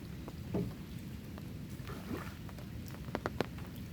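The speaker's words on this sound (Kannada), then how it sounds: "ನೆರೆ ಬಂದಾಗ ನದಿಯಲ್ಲಿ ದೋಣಿ ತಗೊಂಡು ಹೋಗುವಂಥದ್ದು" Low rumbling of a boat moving on a flooded river in Kundapur, Udupi, with wind buffeting and a few splashes and knocks, fairly steady throughout.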